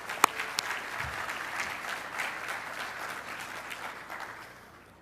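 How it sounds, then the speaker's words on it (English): Conference audience at a military land power event applauds its sponsors, a full, steady round of clapping that holds evenly for several seconds before tapering off at the end. "How about a round of applause for our sponsors?"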